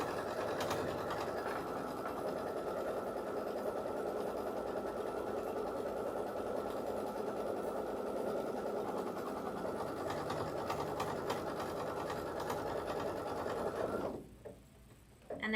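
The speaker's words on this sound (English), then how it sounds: "I'm going to go ahead and stick the hoop back in and run the placement stitch for that side piece." An embroidery machine runs a steady placement stitch on a fabric strip held in a hoop, a continuous close mechanical whir with fast rhythmic needle chatter that stops abruptly near the end.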